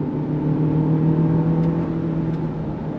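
A 2023 Lexus RX 500h F Sport pulls in second gear under throttle, its engine humming steadily with a smooth, even drone and road noise and no talk.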